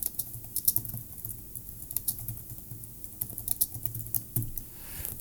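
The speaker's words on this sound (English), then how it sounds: "I make a new alinea and start typing again." Rapid, irregular clicking of computer keyboard keys during typing, close and fairly quiet, with brief pauses between bursts and no speech.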